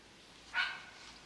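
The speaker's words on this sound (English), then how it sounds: "I've got my little dog giving me some love here." A small dog gives a single short, faint bark or yip in a garden, one brief sound against quiet background.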